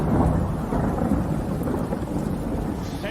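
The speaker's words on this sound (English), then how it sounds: "it's raining here in Pittsburgh outside my window right now" Steady rain pours outside a window in Pittsburgh with low rumbles of thunder, a dense continuous wash of sound with no voices.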